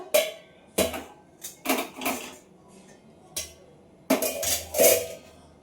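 A metal kadai set onto a lit gas stove: close, irregular clanks and scraping knocks in several sharp bursts, some in quick pairs, with no voices.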